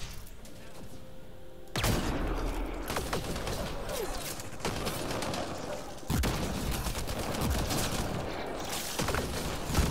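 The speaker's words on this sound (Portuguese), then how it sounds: "eu dei um tiro de 12" Bursts of loud shotgun fire in Mass Effect: Andromeda crack in quick succession, sharp blasts standing out over a dense, noisy background.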